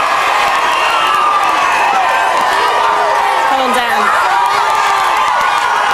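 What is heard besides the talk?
large crowd of fans cheering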